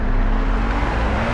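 Cars rushing past in the video game Beyond: Two Souls, a brief loud roaring whoosh of engines and road noise, close and without talk.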